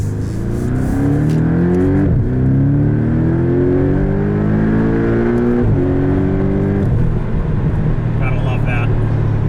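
From the driver's seat, a 2019 Porsche 718 Boxster S turbocharged engine climbs repeatedly through high RPM, with rising pitch sweeps broken by brief dips at gear changes; a person speaks over the engine.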